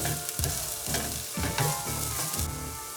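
Garlic and onion sauté in a pan with a steady, close sizzle and crackle, broken by periodic stirring scrapes, and no talk.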